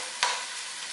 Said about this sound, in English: So you want to let those onions get a little translucent. Saute them slowly until they're pretty cooked.